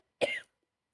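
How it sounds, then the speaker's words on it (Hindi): One short, sharp cough from a person with a lingering cough, close and clear, alone in an otherwise quiet moment. "या खांसी तो मैंने बसन नहीं दे रही।"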